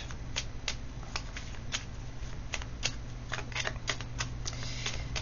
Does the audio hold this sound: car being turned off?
no